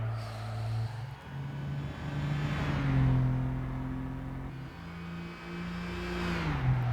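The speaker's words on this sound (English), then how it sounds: "Sound of this car is not that good" A car engine in the video game Gran Turismo 5 drones steadily and loudly throughout, its pitch rising and falling with shifts and revs, with no voices.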